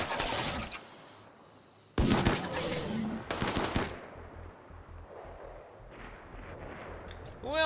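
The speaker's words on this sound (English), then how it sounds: "Who else is shooting?" Video game gunfire, with a dense rattle of rapid shots that stops abruptly, then a second loud burst and a few scattered reports fading into a quieter, low rumbling background.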